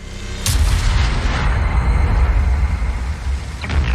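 A British heavy tank with twin guns fires its cannon in World of Tanks, one sharp booming shot followed by a long rumbling tail and low engine drone, with a fainter second report near the end.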